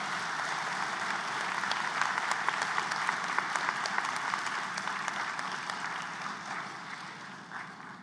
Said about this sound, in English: And now please give them the round of applause they deserve.